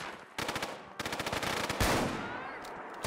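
Automatic gunfire in Fallout 4, rapid bursts of shots in quick rhythm split by short pauses, followed by a heavy blast and a few last sharp reports, close and loud.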